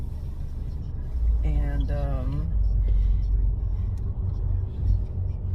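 A car idling and creeping along in traffic, with a low steady engine rumble and road noise throughout, a passing vehicle swelling briefly, and someone speaking a word.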